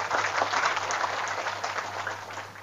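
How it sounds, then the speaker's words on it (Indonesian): A live audience at an Indonesian religious talk breaks into steady, dense clapping that carries at an even level for the whole stretch, with no voice over it. "Tepuk tangan dulu."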